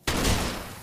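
A single sharp shotgun-like blast from Graves in League of Legends, hitting abruptly and loudly, then a short decaying tail.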